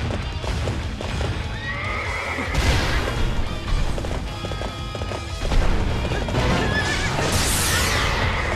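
Horses in the Hyrule Warriors video game whinny loudly and repeatedly over a busy game soundtrack, with clip-clopping hooves and occasional crashing impacts throughout.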